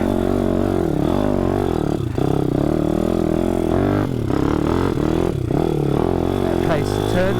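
A 155cc pit bike engine droning steadily at close range on a test ride, its pitch rising and falling with throttle changes, with brief dips and clattering as it moves along.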